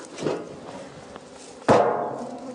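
Knocking on a wooden beehive before it is opened for the honey harvest: a soft tap, then a louder single thud that rings briefly, with no voices.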